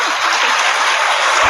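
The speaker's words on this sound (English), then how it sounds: "Thank you for clapping your hands, everybody." An audience claps hands together in a dense, steady wash of applause, loud and continuous for a short stretch with no talking.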